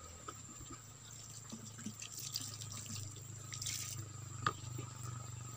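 Water poured over a cement and soil compost mix, a steady close trickle and splash with scattered drips running throughout, faint and continuous with no talk.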